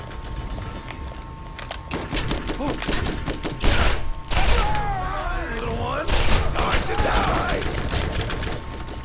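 Gunfire rattles in a Borderlands firefight, with bursts of rapid shots, heavy booms and reload clatter crowding together at close range while someone talks over the action.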